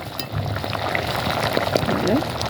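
Fish curry simmers and sizzles in a pan while a utensil lightly stirs through it, with soft scraping and bubbling close by.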